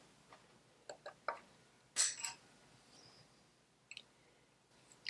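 Lock wire on a Citroën 2CV 425cc engine bolt is snipped, giving a few faint, sharp metallic clicks and ticks spaced apart in a quiet room.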